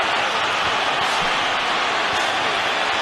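A large arena crowd roars steadily at a Canelo Alvarez versus Gennady Golovkin boxing match, a continuous loud wash of cheering with a commentator's voice underneath.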